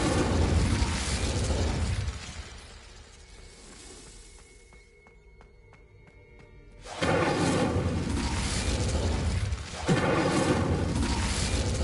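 An Incendio fire spell cast in Hogwarts Legacy, a loud roaring, crackling blast that cuts out, then returns as a sustained fiery rush with a sharp burst near the end.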